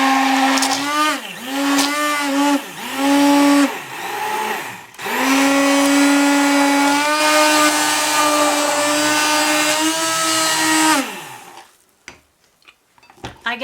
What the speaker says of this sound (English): I use a stick blender in so many different recipes.